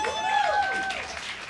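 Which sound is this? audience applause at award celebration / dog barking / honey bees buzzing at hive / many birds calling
audience applause at award celebration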